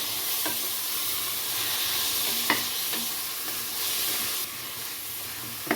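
Half a kilo of chicken pieces frying in hot oil for a chicken kulambu, a bright continuous hiss and sizzle with a few clicks of a stirring spoon, close by.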